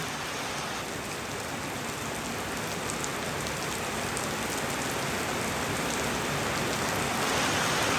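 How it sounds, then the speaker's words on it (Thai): Heavy storm rain pours down without a break, a dense, loud, even roar of drops on surfaces that swells slightly toward the end. "ฝนตกเข้ามาอีกแล้วก็ฝนตกอีกบ้าน"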